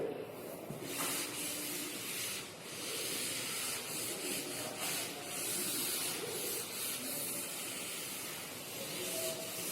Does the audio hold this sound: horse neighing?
no